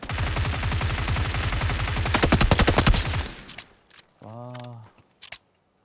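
Rapid bursts of automatic gunfire in PUBG: Battlegrounds, loud and dense for about three seconds with a quickening crackle, then silence broken by a couple of isolated shots; a voice speaks briefly mid-pause.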